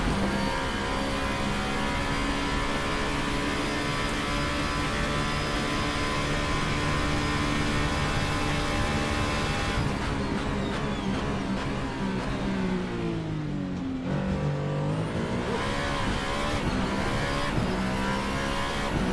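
A VRC Formula Alpha race car engine screams continuously at high revs around Interlagos in a racing game, pitch dipping sharply on a braking downshift near the end and then climbing again as it accelerates, loud and steady throughout.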